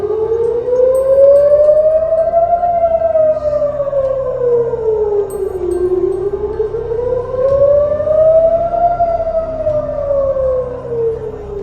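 Air raid sirens wail over Tel Aviv during a Houthi missile attack, loud and steady, rising and falling in long slow cycles with no voices over them.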